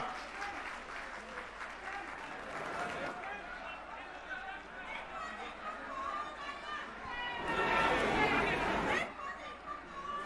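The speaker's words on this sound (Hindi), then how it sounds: "जोरदार तालियों से स्वागत करिए संजय भैया का" A large crowd at a political rally at Jantar Mantar applauds to welcome Sanjay Singh, with sustained clapping and chatter that swells into a louder burst near the end.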